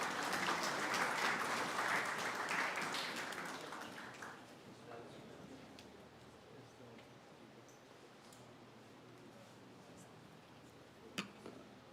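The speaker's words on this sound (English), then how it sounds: "A huge round of applause for sir," Applause from an audience at a technical conference on wireless communication, AI and innovation, fairly loud at first and then fading after about four seconds into quiet room tone, with a single sharp tap near the end.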